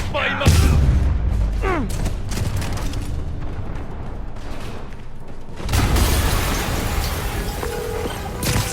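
A dense, rumbling blast in a Spider-Man video game fills the scene with booming and crackling debris, swelling again partway through, under a constant heavy roar.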